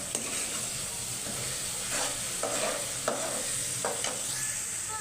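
Masala with tomatoes fries and is stirred in a pan, a steady soft sizzle with several short scraping stirs of a spoon breaking through at intervals, close and fairly quiet, no talking.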